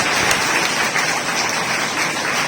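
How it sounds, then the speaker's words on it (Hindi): Loud, dense applause from an audience welcoming a performer at a Shri Krishna Janmashtami celebration in Derawal Nagar, a steady wash of many hands clapping without pause. "एक बार जोरदार तालियों से दीदी का वेलकम करेंगे।"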